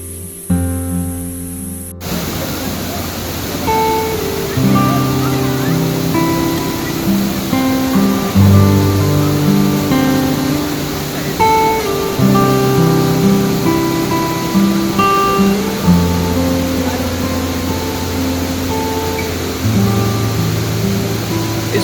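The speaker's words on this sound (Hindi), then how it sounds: "पानी का ये शोर और ये ठंडी बूंदें सारी थकान मिटा देती हैं।" A constant roar of rushing, splashing water from Kempty Falls near Mussoorie fills the air, loud and close, steady throughout with no voices.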